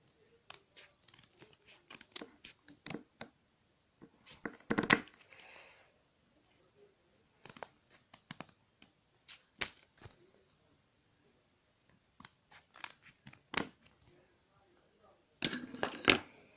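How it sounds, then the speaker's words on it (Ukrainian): Scissors trimming paper to make a small booklet give quiet, close, crisp snips that come in irregular bursts separated by silent pauses. "Ми беремо ножиці і обрізаємо все лишнє."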